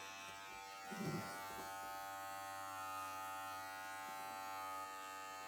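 Electric hair clippers run with a steady, close buzz during a men's crew-cut haircut, with a brief louder burst near the start as they touch the hair, and no talking.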